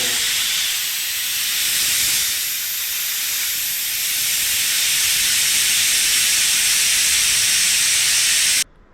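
A pressure cooker cooking chitranna lets off steam in a loud, continuous hiss that holds steady for about eight and a half seconds before cutting off abruptly.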